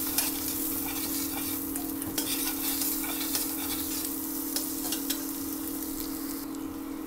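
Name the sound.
stirring chopped ginger and garlic frying in butter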